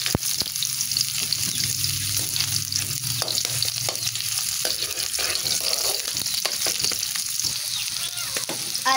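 Onions sizzle and fry in a hot pan for adobong sitaw with tokwa, a steady close crackle with occasional sharp stirring clicks throughout, no voices.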